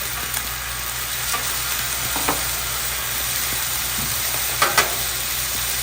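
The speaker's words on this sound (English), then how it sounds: "I'm going to put my garlic on." Garlic sizzles on a griddle set to medium-low, a steady hissing fry that runs continuously with a few faint pops, close and alone without voices.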